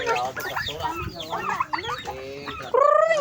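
Chickens clucking nearby in a busy, excited jumble, with a louder drawn-out squawk at the end; a voice mixes in faintly.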